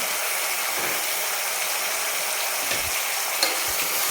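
Continuous sizzling of unmarinated mutton frying in a hot pan over high flame, with occasional scraping and stirring sounds close by; no voices.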